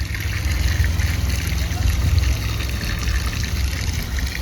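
Mineral water trickles from a natural spring in the Azores, a steady close splashing and dribbling that continues throughout with no talk.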